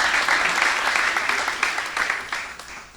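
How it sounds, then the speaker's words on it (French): An audience at a school quiz contest applauds Lycée Jacques Roumain's team with a lively burst of clapping that gradually thins and fades, a voice faintly audible underneath. "Je vous demande d'applaudir cette équipe"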